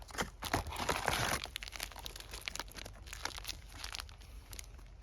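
Plastic ration packets from an MRE being handled and crinkled close up, a dense crackly rustle that peaks early and then continues in lighter bursts.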